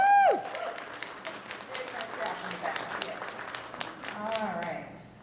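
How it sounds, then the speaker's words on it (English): Scattered clapping from an audience at a middle school facility sharing meeting follows a short bit of speech, with sparse, uneven hand claps that stay moderately quiet and thin out toward the end. "It's okay to clap."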